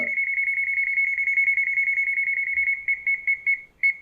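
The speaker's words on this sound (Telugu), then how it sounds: "దగ్గరకు వస్తే ఫాస్ట్గా బజర్ సౌండ్ వస్తుంది" Rapid, steady buzzer beeping from a non-contact voltage tester on an AUTO LINK M3 smart multimeter held near a charger plugged into a switchboard, a continuous pulsing tone that breaks into separate beeps near the end.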